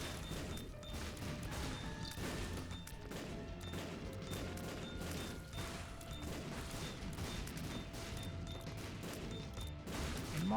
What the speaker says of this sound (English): Troll bombs are helping.